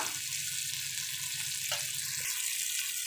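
Malvani-style chicken frying on a hot tawa gives a steady, close sizzle throughout, with a few faint scraping touches partway through and no voices.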